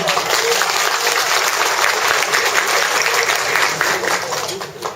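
Wedding guests in Thailand applauding the newly married couple, dense sustained clapping filling the room at a loud, even level.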